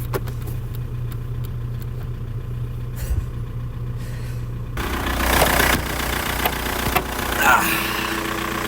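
A Škoda 1.9 SDI diesel engine idles with a steady low drone, then the sound opens up and grows louder and rougher midway as the engine is heard more directly.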